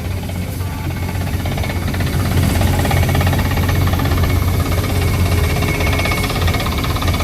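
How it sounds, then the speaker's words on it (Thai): Pneumatic well drilling driven by an air compressor for farm irrigation: a loud, continuous rattling, hammering roar with a steady low engine drone underneath, close by and unbroken throughout. "เจาะด้วยลมนะครับนี่"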